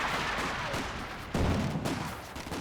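Grenades burst amid gunfire in the strategy video game Company of Heroes 2, muffled rumbling blasts with one heavier thump midway under continuous battle noise.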